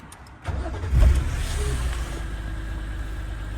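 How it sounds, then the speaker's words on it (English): A BMW E46 M3 engine cranks and fires up, a loud catch settling into a steady, rumbling idle that continues to the end. "I'll start the car up."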